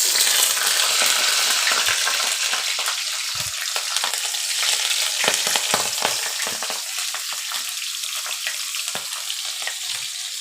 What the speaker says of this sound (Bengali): এখন আমি এই তেলেই দিয়ে দিচ্ছি চেরা কাঁচামরিচ